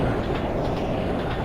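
A long train runs in an Indian train simulator game, a loud, continuous rumble with rhythmic clickety-clack of wheels over rail joints and no talking.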